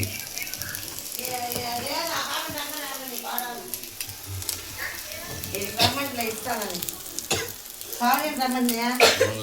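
Fish fries in hot oil, a steady crackling sizzle that runs throughout, nearly covered by a person talking over most of it.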